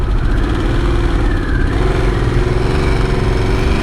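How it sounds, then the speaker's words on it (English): A 2024 Harley-Davidson Sportster S RH1250S motorcycle engine runs steadily at a rough, throbbing idle, loud and close, with a slight rise in revs partway through. "this really is a motorcycle engine and not a Honda generator"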